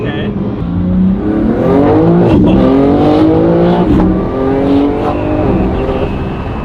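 The engine of a BMW M4 Competition G82 revs loudly and rises and falls in pitch several times, heard from close by with a voice talking over it.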